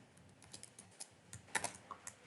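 Quiet, irregular keystrokes on a computer keyboard while Python code is typed, with scattered clicks and a few sharper key presses, close and alone without speech.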